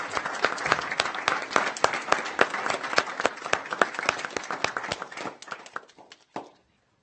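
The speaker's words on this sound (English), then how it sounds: "If we could give them a round of applause." Audience applause at a board of education meeting, a dense crowd clapping steadily for several seconds before thinning and fading out with a last few claps.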